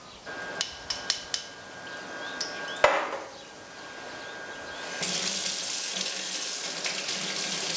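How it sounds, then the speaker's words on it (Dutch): Tomato seeds are rinsed in a sieve under a running kitchen tap. A few sharp knocks come first, then a steady stream of water pours out and grows fuller and louder, with nobody speaking. "spoel het zaad in een zeef onder stromend water."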